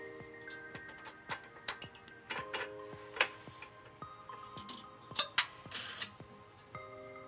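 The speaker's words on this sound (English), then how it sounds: "we're going to install our provided flange nuts" Flange nuts fitted onto bolts while a trailer hitch is installed on a 2017 Subaru Impreza hatchback: small metallic ticks, clinks and ratcheting clicks in irregular bursts, close and moderately quiet, with no voices.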